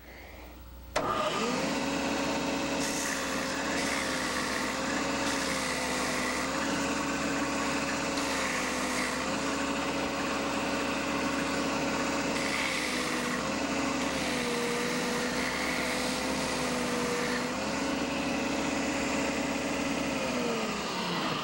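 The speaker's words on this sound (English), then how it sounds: "Now I'm not going to sand the whole thing because we don't have the suction system on now, but I'll start it." A power sander works on a laminated acrylic pen base, starting with a sudden whir and holding a loud, steady motor drone with slight pitch dips as pressure changes, running continuously for about twenty seconds.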